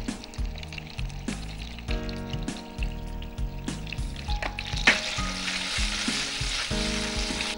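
Boiled baby potatoes, still in their skins and salted, browning in a pan with a steady sizzle and occasional stirring, under tonal background music.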